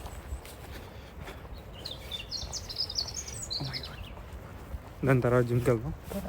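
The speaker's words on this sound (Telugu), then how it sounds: "పక్షి" A small bird chirps in a quick high series in the background, followed by a person speaking close by.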